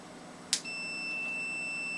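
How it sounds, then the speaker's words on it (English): A multimeter's continuity tester, checking switch wiring during a Twin Otter cockpit build, gives a short click and then a steady, high electronic beep that holds unbroken at moderate loudness. "That's a continuity tester. Hopefully you can hear that beep."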